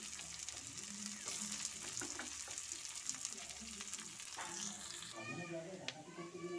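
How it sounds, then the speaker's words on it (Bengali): Chopped onion and garlic fry in a pan with a constant, close sizzle, broken by occasional stirring clatter and scraping. "পেঁয়াজ রসুন ভাজা হয়ে গেছে"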